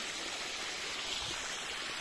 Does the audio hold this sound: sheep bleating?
no